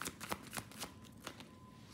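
Romance Angel Oracle cards being shuffled by hand, a close, soft run of riffling card flicks repeating in quick bursts throughout, with no talk over them.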